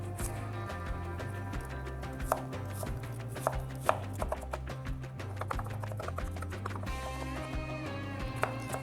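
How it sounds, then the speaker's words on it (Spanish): A knife chopping radish into small cubes on a cutting board, giving crisp, irregular taps that repeat in quick bursts beneath light background music. "Lo vamos a cortar en rueditas y luego en cuadritos bien pequeñitos"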